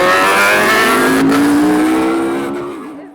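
A BMW HP4 superbike running with its exhaust removed gives a loud, raw, close engine roar that holds steady and then fades away near the end.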